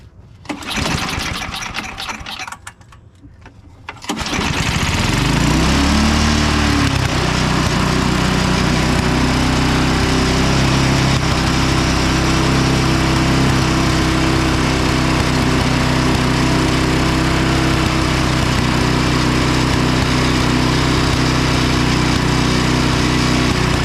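Craftsman 5 hp, 24-inch snow blower from the 2000–2008 era, just after a carburetor cleaning: a few seconds of pulling and rattling, then the small engine catches and settles into a loud, steady, high-pitched drone that continues to the end.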